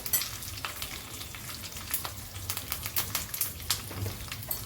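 Sesame seeds, curry leaves and asafoetida crackle in hot oil as a tempering for dhokla, a soft sizzle with sharp irregular pops and spits, fairly faint and without speech.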